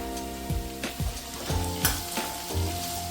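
Carrot and potato sauté in a pan for a Kerala sadya masala curry, a soft steady sizzle broken by a few scraping stirs of a spoon against the pan, close and alone.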